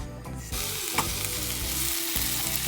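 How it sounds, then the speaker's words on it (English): Blue Dragon red Thai curry sizzles and spits loudly in a pan, a dense crackling frying hiss with a brief stir or scrape, close up and with no voices. "we're cooking Blue Dragon red Thai curry and pre-cooked rice"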